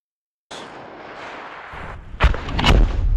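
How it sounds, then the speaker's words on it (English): Russian artillery systems opening fire: after a steady whooshing rush, two heavy, loud booming blasts land in quick succession, followed by a lingering rumble. "Two of Russia's most accurate artillery systems take their positions and open fire"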